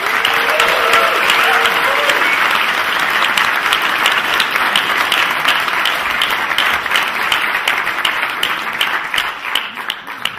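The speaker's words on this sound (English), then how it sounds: "So everyone give a round of applause for Ming Flanagan." Sustained audience applause from a university society crowd greeting the guest speaker Luke 'Ming' Flanagan, dense and steady for about ten seconds before easing slightly at the end, with a faint voice or tone briefly audible early on.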